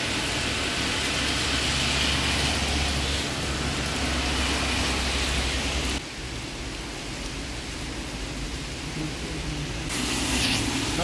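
Heavy rain pours in Tokyo near Tokyo Tower, heard from a public restroom used as shelter: a steady, moderately loud hiss that dips briefly partway through, with no talking.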